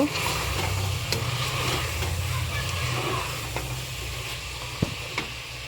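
Mutton sautéing with slit green chillies in a pan for kosha, a steady low sizzle and stirring running close and continuous with a few scrapes.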